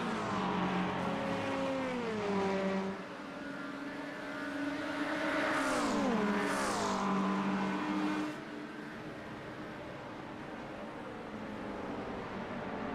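LMP2 prototype race cars at Road America drone loudly with engine whine sweeping up and down through gear changes, a close pass rising and falling in pitch, with a steady roar continuing afterward.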